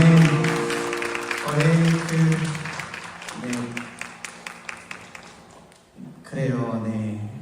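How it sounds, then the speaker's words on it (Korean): A chapel congregation applauds during a worship night led by a praise team, with a scattered patter of clapping running under a voice and sustained tones, ending with another voice coming in. "우리 하나님께 영광의 박수 올려드립시다"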